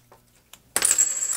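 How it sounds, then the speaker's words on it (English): Coins are picked up and dropped while being counted, with a couple of faint clicks followed by a loud metallic clatter and ringing jingle up close. "So let's grab some coins. Get 7 coins here."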